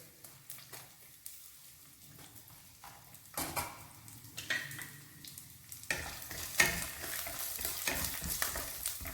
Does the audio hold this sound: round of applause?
no